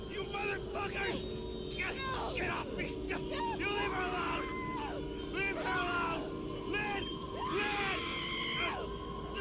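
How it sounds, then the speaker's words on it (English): A woman's agonised scream from the horror video game Outlast 2, repeated in several anguished, wavering bursts over a low ambient rumble and murmuring background voices. "the voice acting in that scream is like top notch"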